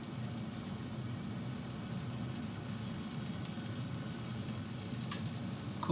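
Shish kebab sizzles steadily as it cooks in a pan, a constant close frying hiss with a low rumble and faint crackles, running without a break and with no talk.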